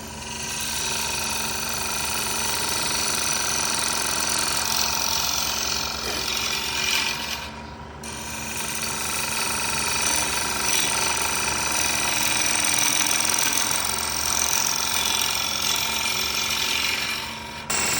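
A wood lathe spins a lidded box while a tool cuts into its inside, giving a steady, dense, grinding-whirring drone that carries on for the whole stretch with only a brief dip midway.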